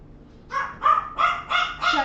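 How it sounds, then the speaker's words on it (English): An excited dog barking indoors, five loud, sharp barks in a steady rhythm, close by and with no talking over them. "my dog, you guys. He is making too much noise"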